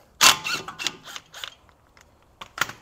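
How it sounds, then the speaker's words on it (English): An inside brake pad is yanked from the caliper of a BMW E46, giving a sharp metallic clack followed by several scraping rattles and clicks, close and isolated, with a final pair of clicks at the end. "take the inside pad out. I'm gonna rip this out."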